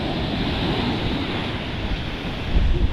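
Sea waves surging on a beach, a steady broadband wash with wind buffeting the microphone and a louder surge near the end, no talking.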